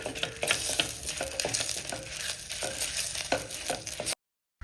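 Peanuts fry and sizzle in groundnut oil while a utensil stirs them in repeated scraping strokes, close up, then the sound cuts off abruptly.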